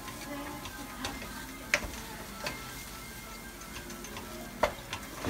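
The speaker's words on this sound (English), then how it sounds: "I'm gonna just keep stirring it, mixing it all around there." A spoon stirs roux in a pot for seafood gumbo, producing soft irregular scraping and ticking clicks against the pot over a faint low sizzle, with a few sharper knocks.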